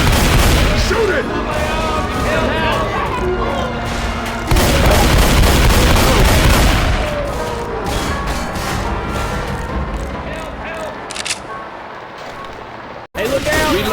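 Loud, chaotic gunfire and booms in the zombie shooter Left 4 Dead 2 on expert difficulty during the Hard Rain campaign, dense overlapping shots and crashes with voices shouting throughout.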